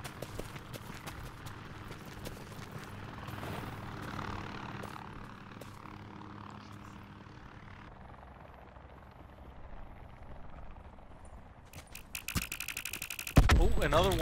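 A helicopter in the video game Call of Duty Blackout drones with steady rotor chop under faint player talk, growing louder toward the end amid bursts of in-game noise.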